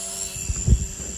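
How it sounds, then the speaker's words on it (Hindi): A cheap Amazon drone flies nearby, its small propellers giving a steady high-pitched whirring whine with a low buzzing throb underneath, close and moderately loud over a brief moment. "ये ड्रोन नहीं रुक रहा है"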